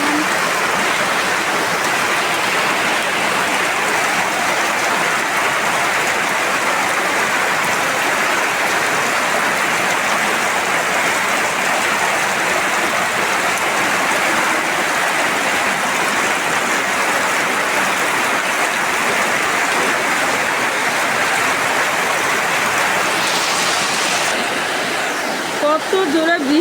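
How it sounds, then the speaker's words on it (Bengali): Heavy rain pours down steadily in a village yard, a dense, unbroken roar of water that stays loud and even throughout, with no talk over it. "কত জোরে বৃষ্টি আসছে"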